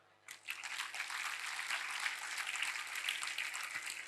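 Audience clapping at an arangetram dance recital, a dense, steady burst of applause starting abruptly and continuing at an even level throughout.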